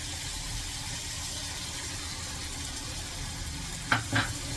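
Masala with yogurt fries in oil for a paneer dish, giving a soft, steady sizzling hiss, then two brief louder stirring scrapes near the end.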